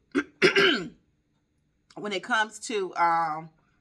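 A short cough and throat clearing up close, followed after a brief pause by a voice speaking.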